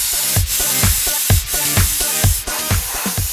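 An airbrush sprays paint while detailing an eye, giving a steady close hiss broken by short repeated bursts roughly every half second, with no talking.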